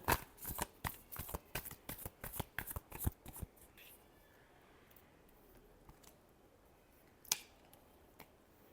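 Tarot cards are shuffled by hand in a rapid run of crisp riffling slaps for about three seconds, then a quiet room with a single faint card tap.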